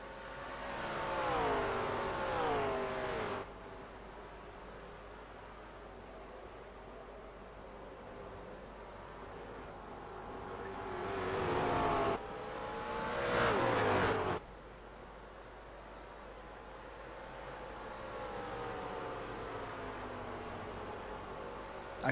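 Race car engines in the iRacing simulator whine and rise in pitch through gear changes, loud at the start and again in the middle, dropping to a steady hum between, with a voice talking over parts.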